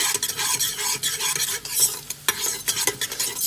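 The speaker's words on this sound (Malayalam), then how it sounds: "സോഫ്റ്റ് ബട്ടർ സ്റ്റേജിൽ തന്നെ വെളുത്തുള്ളി ഇടണം അപ്പോഴേ ആ ബട്ടറിന് നല്ല മണം കിട്ടുള്ളൂ നന്നായിട്ട് ഇളക്കുക" Garlic fries in soft butter in a pan while a spoon stirs it briskly, giving close scraping strokes over a bright, steady sizzle with no voices.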